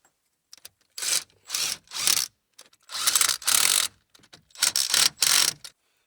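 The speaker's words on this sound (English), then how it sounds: "Install our last 3 bolts." Ratchet wrench driving the last bolts on a GMC Yukon during repair work, heard as several loud bursts of rapid ratcheting clicks with short pauses between them, close up and without talk.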